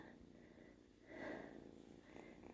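A tiny kitten, rescued after falling down a chimney into a village stove, purrs softly and close with a low, steady rumble and a few snuffly breaths.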